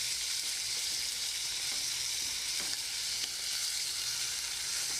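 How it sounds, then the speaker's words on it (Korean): Thin-sliced pork belly and garlic stir-frying in olive oil in a pan, a steady close broadband sizzle holding even throughout with faint stirring scrapes and no voices. "썰어 놓았던 대패 삼겹살 넣고 볶아줍니다"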